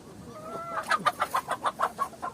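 Chickens cluck in a garden, a rapid run of about ten sharp, rhythmic clucks rising out of a quieter opening call, close and fairly loud with no talking.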